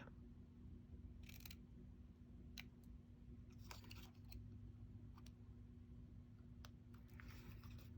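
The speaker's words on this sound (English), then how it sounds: "I am going to snip a flag on each end simply by snipping down the center" Paper snips cut through cardstock in a few short, crisp snipping bursts, close and faint over a quiet hum, with no talking.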